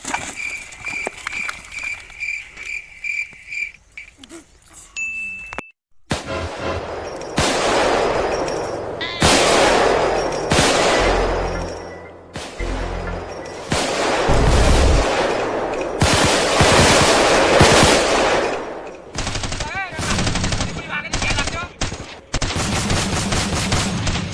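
Gunfire sound effect in a Gujarati comedy sketch: after a quiet opening with a brief tone, a long run of loud, dense bursts of shots and blasts follows, continuing almost without pause to the end.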